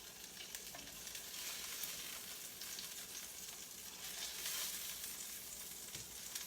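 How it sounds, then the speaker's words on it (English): Stuffed meatballs cook in marinara sauce with a soft, continuous sizzle and bubbling, quiet and steady with faint swells throughout, with no talk. "we're gonna drop these into the marinara sauce and let them cook"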